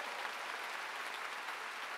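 A church congregation in a large gymnasium revival meeting applauds, a dense continuous wash of clapping from a big crowd, steady and moderately loud throughout.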